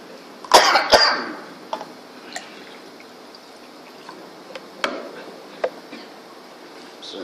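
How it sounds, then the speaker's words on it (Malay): A loud burst of coughing near the start, two harsh hacks close together, followed by a few fainter scattered coughs and throat noises over quiet background. "batuk pula."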